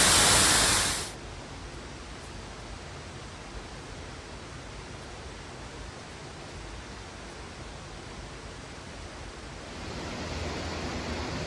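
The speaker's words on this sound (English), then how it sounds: "came to a little bit of an obstacle. It's a waterfall." Constant broadband rush of a waterfall in The Narrows slot canyon of Zion National Park, heard close and steady, with a loud burst at the start and the roar swelling slightly louder near the end.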